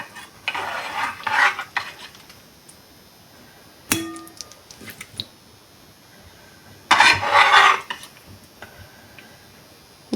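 Serving sea fish and pointed gourd curry from a pan: a few clanks and scrapes of a metal spoon against cookware, spaced apart in a quiet kitchen, with a bright clang midway.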